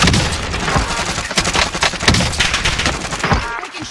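Gunfire in the battle royale shooter Warzone, a dense, loud, continuous rattle of overlapping shots and impacts with no clear gaps.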